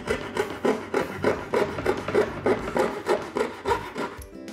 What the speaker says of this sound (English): You'll need to sand the coped edge to get a tight fit.